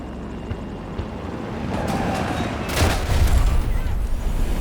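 Stealth chopper helicopter attacking in a video game: a rumbling engine bed builds under a run of gunfire and booming explosions, growing louder and denser toward the end.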